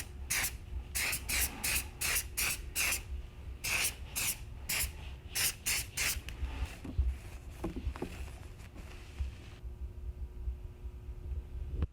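Trigger sprayer misting Xtreme Solutions dressing onto plastic car trim, a rapid series of short sharp hissing squirts in quick rhythm, close by, followed by softer rubbing and handling noises.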